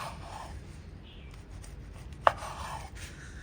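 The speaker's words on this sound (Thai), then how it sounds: "เราก็จะหั่นแบบเฉียง ๆหั่นเบามือนะคะ ไส้ข้างในจะได้ไม่แตก" A knife slices gently and diagonally through steamed tofu-skin rolls stuffed with taro, giving a quiet soft rubbing followed by one crisp tap of the blade against the board, close and faint in a calm kitchen.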